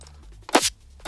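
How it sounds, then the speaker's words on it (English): High-passed top layer of an acoustic kick drum sample with the low end removed, two sharp, clicky hits played in isolation, crisp and bright with a short decay. "I think it's the top of like an acoustic kick"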